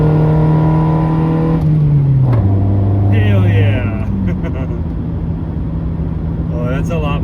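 Honda Civic EG with a stock exhaust droning steadily near 2,000 RPM, a low hum that dips in pitch and then settles, loud and close, with a voice talking over it.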